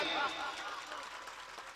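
Mushaira audience applause, a brief burst of clapping that fades a little, with a voice speaking over it.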